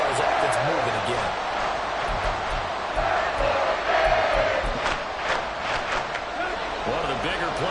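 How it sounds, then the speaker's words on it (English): American football stadium crowd roaring and cheering ahead of a big third down, a loud sustained wash of many voices, with a commentator talking over it. "The crowd getting into it as we come up on a big third down."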